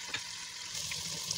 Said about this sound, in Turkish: Orta ateşte kavurun.